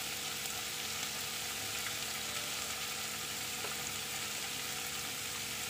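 Vegetables frying in a pan, a close, steady sizzle that holds evenly without letting up.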